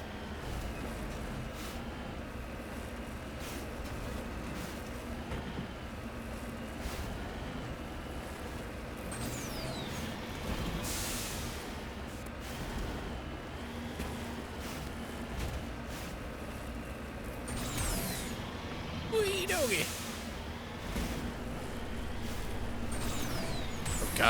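A vehicle's steady engine drone while driving off-road through a mountain range in Mass Effect, a continuous mid-level rumble with occasional swells and bumps and no talk.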